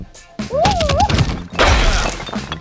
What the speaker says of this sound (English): heads get bashed on cobblestone roads, with a trickle of rubble